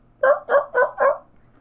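A voice imitates a turkey gobble: four quick, throaty warbling bursts in an even rhythm, close and fairly loud, with quiet around them.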